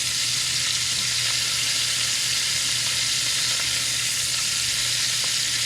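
Salmon fillets frying in a pan give a loud, continuous, dense sizzle with a low hum beneath it, uninterrupted for the whole stretch and with no voices.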